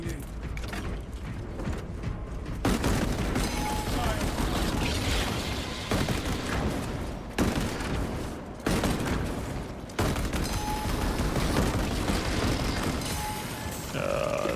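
Rapid weapon fire and mechanical clatter from the game Space Marine 2, bursts of shooting in loud sustained stretches broken by short pauses, with faint game voices underneath.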